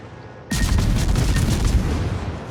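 Warship guns open fire abruptly in World of Warships, a loud burst of booming shots with rapid follow-up reports rolling into a sustained rumble of gunfire, with no voices.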